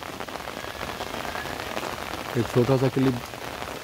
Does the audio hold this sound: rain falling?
yes